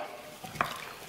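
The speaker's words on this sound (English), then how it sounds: "Then I'll stir this up in there, mix it all up" A spoon stirring ground pepper into a homemade beef stew in a pot, a brief soft scrape and one small clink over a quiet bubbling background, with no voices.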